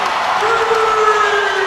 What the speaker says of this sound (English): This crowd has come to life here in Raleigh